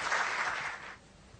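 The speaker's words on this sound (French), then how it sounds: "Sous vos applaudissements, s'il vous plaît." Crowd applause welcoming a speaker at a West African mining conference opening ceremony, a short burst of clapping that fades out after about a second, leaving quiet room tone.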